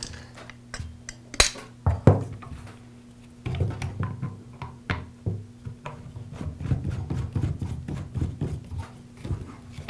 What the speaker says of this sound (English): now I'll reinstall the guard and the side handle